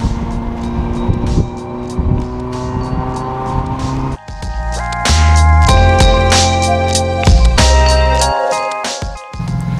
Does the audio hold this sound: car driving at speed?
yes